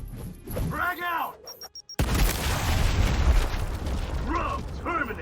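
A frag grenade bursts in the Gears Tactics video game with a sudden loud boom, followed by a broad rumbling blast that lingers for several seconds, while a voice talks briefly before and after.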